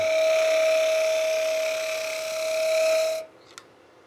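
A woodturning lathe tool chatters while turning a lidded box with an inlay, giving a loud, steady, high-pitched whine that holds for about three seconds and then cuts off abruptly, leaving near silence.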